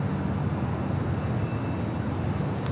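Steady, loud broadband roar of an airliner departing runway 24 left at Los Angeles International Airport, a continuous engine rumble holding level throughout with no talk.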